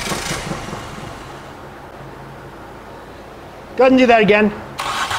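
A car engine cranks during an ignition coil test with a test light, a steady rough churn that fades, then someone speaks briefly near the end.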